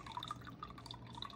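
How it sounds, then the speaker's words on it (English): Soy sauce, a reduced-sodium kind, pours into broth in a crockpot, giving a short, close run of light drips and trickling splashes. "So let's just pour until we get that up to that 1/4"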